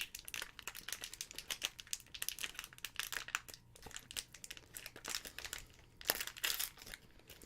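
Paper crinkles and rustles close up as a cola-flavored roll-up candy is unwrapped, a quiet, busy run of crackling bursts with small pauses.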